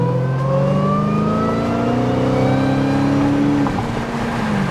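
A Dodge Hellcat Redeye accelerating up a hill, its engine a loud, steady roar rising smoothly in pitch over several seconds before easing off near the end, heard from inside the car with no talk.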